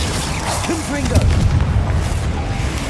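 A Confringo blasting spell erupts in the Hogwarts Legacy video game, giving a loud, sustained booming rumble that fills the whole moment over a dense, noisy game backdrop.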